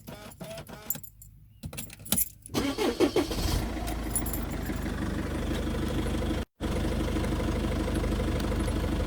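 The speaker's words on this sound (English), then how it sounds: "I'll turn the car on because I've got to open the windows a tiny bit" A car starts after jangling keys and a key fob click; the engine catches and settles into a steady close idle with no talking.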